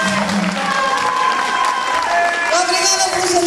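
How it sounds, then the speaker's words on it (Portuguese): Dinner guests at a festive gathering give a big round of applause for everyone, a dense, sustained clatter of clapping alongside voices and a rising cheer. "Uma grande salva de palmas para todos."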